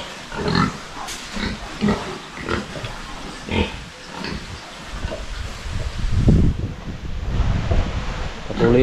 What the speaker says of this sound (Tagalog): Nakakaalo lang tingnan yung ating mga alagang baboy dito.